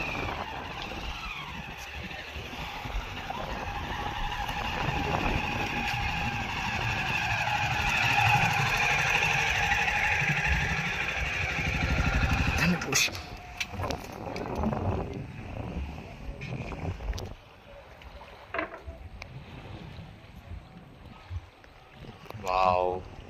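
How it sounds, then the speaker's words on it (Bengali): A motorbike is loaded onto a river ferry boat crossing the Ganges near Mousuni Island: a droning engine, rumbling and clattering knocks, and outdoor wind noise, with people talking over it throughout. "এই দেখুন খেয়াতে বাইক তুলছে কিভাবে।"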